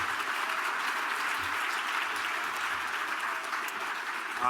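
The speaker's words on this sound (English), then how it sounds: "Can we just do one more round of applause?" Steady round of audience applause at a keynote luncheon and award ceremony, many hands clapping in an even, continuous wash at moderate distance.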